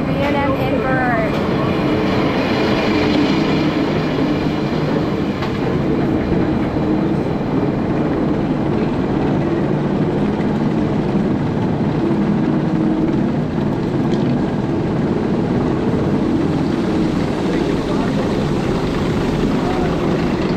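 Brand-new B&M inverted roller coaster, Phoenix Rising, heard from the rider's seat: loud continuous rushing wind and rumbling track roar throughout, with voices mixed in.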